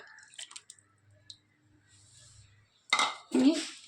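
Tamarind water pours and splashes into a pot of tuna curry in a short burst near the end, after quiet kitchen clinks and a soft low hum.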